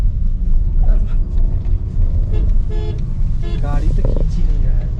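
A car engine labouring uphill on an icy high mountain road toward Umling La pass, a heavy continuous low rumble with intermittent horn-like tones and voices talking over it.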